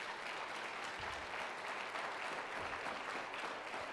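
A church congregation claps together for several seconds, a steady, fairly quiet wash of many hands with faint individual claps standing out, no speech over it.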